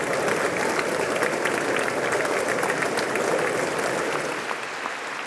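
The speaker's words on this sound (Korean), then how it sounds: "미국 상하원 의원들의 기립박수 속에 의회 연단에 오른 윤석열 대통령." Standing ovation from US Congress members in the House chamber: dense, loud, continuous applause from a large crowd that carries on throughout and eases off slightly near the end.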